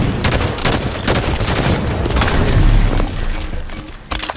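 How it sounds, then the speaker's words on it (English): Heavy gunfire and cannon blasts from incineration cannons in a Halo 5 Big Team Battle capture-the-flag match on the Antifreeze map, a dense continuous barrage of booms and rapid shots at close range. "Incineration cannons on the field."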